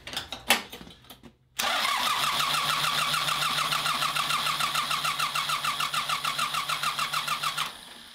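A John Deere 1050 tractor with a Yanmar 3T diesel engine cranks over after its fuel injector lines are bled, the starter churning in a steady, rapid rhythmic chug for about six seconds. The chugging follows a few faint clanks, loud and close, with no talking.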